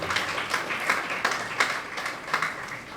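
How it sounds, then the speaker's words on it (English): A crowd claps steadily throughout at the launch event of a national local-language spelling competition held by the UPSA Language Centre, a moderately loud, continuous patter of many hands with small swells and no voices on top. "That alone deserves a round of applause"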